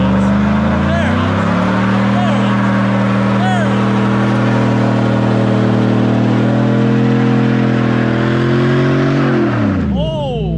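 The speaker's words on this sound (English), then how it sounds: "you always got to remember to turn traction control off when you want to do a burnout" A squatted truck roars through a sustained burnout with traction control off, its engine held at steady high revs for about ten seconds before dropping off, close and loud, with excited voices shouting underneath.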